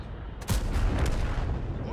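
A single heavy tank gun shot in the World War II strategy game Order of War, a sudden loud blast followed by a rumbling, fading boom.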